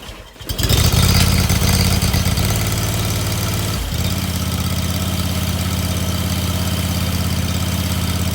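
A riding lawn mower engine with the blade disengaged and a little choke catches quickly after a pull-cord tug, revs up, then settles into a steady, loud, close idle.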